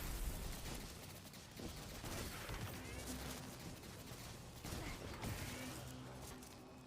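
Boss gunfire in a video game, rapid bursts of shots and clattering impacts repeating in waves over a constant background rumble, fairly faint overall.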